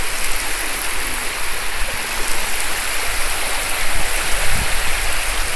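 Steady wash of seawater on a sandy beach, continuous broadband rushing with gentle swells, moderately loud and close, no voices.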